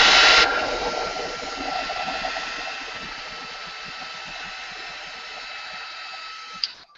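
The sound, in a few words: hair dryer drying paint on canvas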